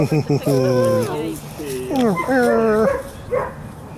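A German Shepherd puppy gives high, wavering whimpers and short yips in a rising and falling pattern, close by and continuous for several seconds.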